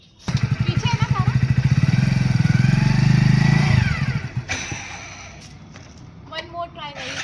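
Motorcycle engine running close by with a steady low pulsing throb for about four seconds, then fading as someone talks over it.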